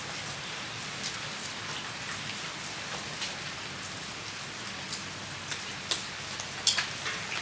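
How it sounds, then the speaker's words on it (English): Rain falling outdoors, a steady soft patter of drops with a few sharper, louder hits toward the end and no voices. "It is raining"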